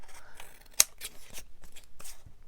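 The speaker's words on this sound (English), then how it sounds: "go on then, cut it all." Scissors snip paper for a junk journal kit, one crisp loud cut standing out among several softer snips in a quiet room.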